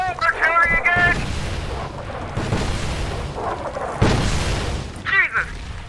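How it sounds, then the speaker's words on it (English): Artillery explosions in a video game land as deep, heavy booms at irregular intervals under a low rumble, while excited voices shout at the start and near the end. "We're back! Artillery again!"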